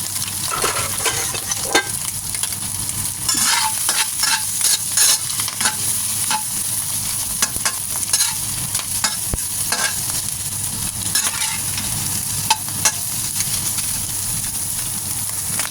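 Shrimp fry in sesame oil with a loud, continuous sizzle and hiss, broken by frequent sharp clinks and scrapes of a utensil stirring the pan; no talking.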